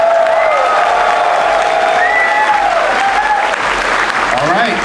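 Applause and cheering from a large convention crowd for the Paws on Fire crew, loud and continuous throughout, with whoops and voices rising over the clapping.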